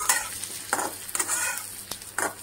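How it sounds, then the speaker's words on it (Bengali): Pointed gourd frying in hot oil, a steady close sizzle broken by several scraping stirs of a spatula in the pan. "ওই তেলে পটল দিয়ে দিয়েছি আর পটলগুলোকে ভাজা হচ্ছে।"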